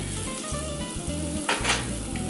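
A Beyond Burger patty sizzles steadily in a pan over lowered heat, a dense close hiss with a few faint scrapes of a utensil against the pan.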